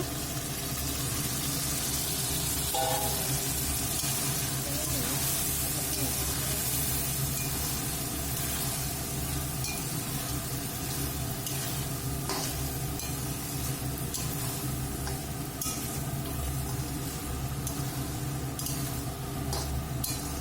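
Boiled chickpeas and potatoes fry in a pan for ghugni, giving a continuous loud sizzle with occasional stirring scrapes and clinks of a spatula against the metal throughout.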